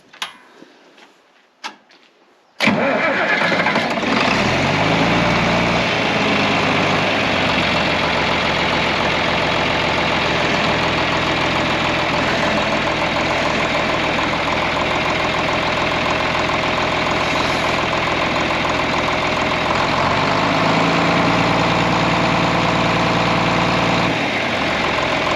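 A muscle tractor engine cranks with a few short bursts, catches, and settles into a loud, steady, close idle with a dense mechanical rumble and faint knocking that runs unbroken for over twenty seconds.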